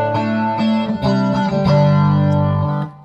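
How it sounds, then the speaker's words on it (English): Electric guitar through a Roland Cube 80XL amp with a subtle chorus setting, a few strummed chords ringing out with a gentle shimmer, loud and close, fading at the end with no talking. "Or a real subtle chorus."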